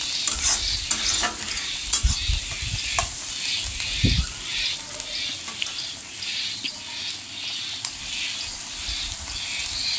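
Prawn and potato curry being stirred in a hot pan, with a continuous sizzle and repeated scraping, knocking strokes of a spatula, including a sharp thump near the middle, and no voices.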